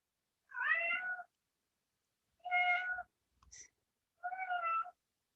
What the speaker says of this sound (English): I wish I could edit my cat out,